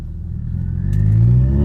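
Car engine with a manual gearbox rising in revs around a downshift into second gear, a loud close low rumble that climbs steadily in pitch over a couple of seconds.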